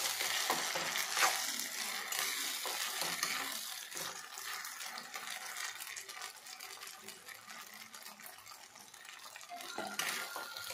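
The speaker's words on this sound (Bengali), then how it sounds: "এখন আবার আমি ভাজবো" Ground spice paste fries in a pan for a green banana curry with plenty of oil, making a soft, steady sizzle and hiss at low level with occasional stirring scrapes and no voices.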